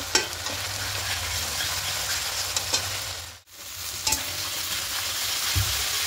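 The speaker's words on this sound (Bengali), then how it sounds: "এবার খুব ভালো করে কষিয়ে নেব যতক্ষণ পর্যন্ত আদা রসুন আর টমেটোর পেস্টের কাঁচা গন্ধটা চলে যায়" Ginger, garlic and tomato paste fried and stirred in a pan, a continuous close sizzle with intermittent scraping of the spatula and one brief drop in sound partway through.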